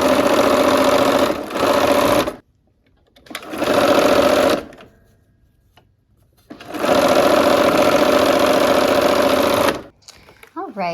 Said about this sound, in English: here we are at the machine again. We're gonna go ahead and sew these units together.